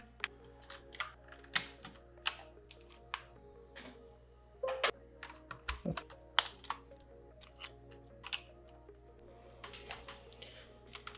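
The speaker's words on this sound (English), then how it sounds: "Anyways, let's get these keycaps on." HyperX double shot PBT keycaps are pressed onto a keyboard, giving an irregular series of sharp plastic clicks and snaps, some louder than others, with quiet pauses between them.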